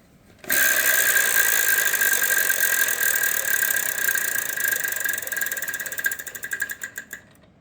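A prize wheel spun on the Wheel of Fortune game show starts with a sudden burst of fast, blurred clicking that holds steady, then breaks into distinct ticks that slow and fade as it comes to rest.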